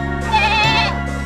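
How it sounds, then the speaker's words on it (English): A Nubian goat lets out a single clear, close bleat of about a second, wavering and nasal, heard alone without any talk. "Nubian goat."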